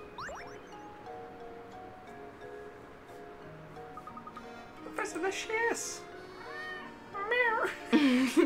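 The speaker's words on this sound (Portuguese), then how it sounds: "Gata ia falar" A cat meows several times in short, rising and falling calls from nearby, mixed with soft game music and chiming tones from Professor Layton and the Curious Village.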